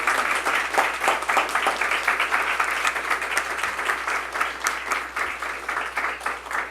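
An audience at an evening panel discussion on Afro-descendant identity and memory in Peru applauds its three speakers, a dense, steady wash of many hands clapping that holds at an even level throughout with no talk over it.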